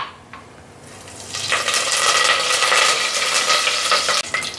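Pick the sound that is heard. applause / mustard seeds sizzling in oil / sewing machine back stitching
mustard seeds sizzling in oil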